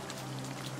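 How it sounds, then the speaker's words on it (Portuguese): Steady rain falls in Assassin's Creed Valhalla, a soft, even hiss of drops under a low constant hum, faint and without pause over a short moment. "Nessa chuva."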